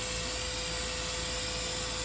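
GAAHLERI GHAD-68 airbrush spraying Quick Shine, a steady close airy hiss with a thin whine running unbroken the whole time.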